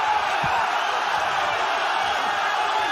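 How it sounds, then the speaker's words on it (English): A fight crowd roars in a steady, dense wall of cheering and shouting, pushing to urge a fighter on, with no letup for the whole few seconds. "The crowd trying to urge Tank on."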